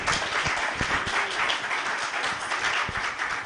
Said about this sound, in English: Let's give another round of applause for those amazing,